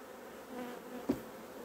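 Bees buzz around a small hive colony, a soft continuous hum with a single louder insect passing close by midway.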